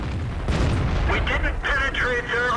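A heavy tank's cannon fires in an armored combat video game, a deep booming blast with a rumbling tail, followed by someone talking over the game sound.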